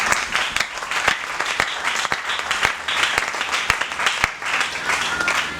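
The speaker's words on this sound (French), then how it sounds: "Acclamez pour le Seigneur." A church congregation claps for the Lord in a dense, continuous burst of applause lasting several seconds, loud and close.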